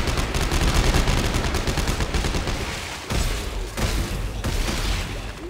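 Rapid gunfire and explosions in the video game Dead Space 3 during co-op play, dense loud bursts and volleys almost without pause, with a brief gap near the middle.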